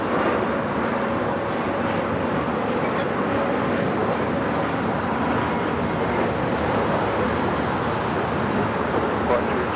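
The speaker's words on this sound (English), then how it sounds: "That was a Gulfstream" A Gulfstream business jet at LAX gives a steady, broadband roar that fills the whole stretch, loud and continuous with no clear break, blended with general airport and road noise.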